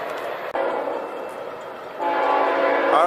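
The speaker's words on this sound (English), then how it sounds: "Here comes another train." CSX freight train rolling past at a railfanning spot, a steady rumbling roar with wheel noise, then a loud blaring horn chord bursts in and holds for the final second, heard fairly close with no talking.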